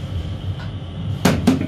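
Brake cover on the electric motor of a freight elevator being opened, two sharp metallic clacks close together near the end over a faint steady background hum.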